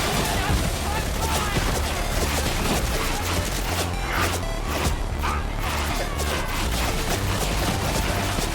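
Dual autopistols firing in the video game Darktide, a dense continuous stream of rapid shots with crashing impacts throughout, loud and unbroken, with a voice briefly audible over it.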